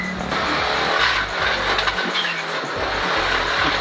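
An Audi S1 Sport Quattro Evolution 2 Group B rally car accelerates hard, heard from close by. Its loud engine roar carries a deep, pulsing low end and shifting tone for nearly four seconds.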